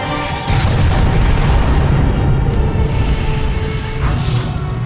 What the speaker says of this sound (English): The explosion kills Captain Atom and severely wounds Wonder Woman